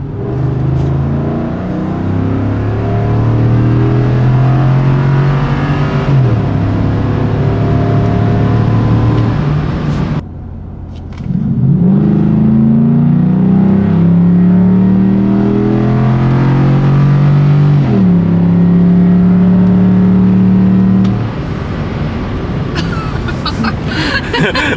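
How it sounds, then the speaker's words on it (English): A truck accelerating hard through 30 to 80 and wide-open-throttle pulls, loud engine tones climbing steadily through gears with brief drops at shifts and a pause between the two runs. "we're gonna go ahead and do the 30 to 80 pull, and then we're gonna do a wide open throttle pull"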